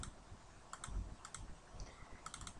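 Quiet clicks of keys on a computer keyboard as a password is typed in, several short bursts of taps spread irregularly through the stretch, near and soft.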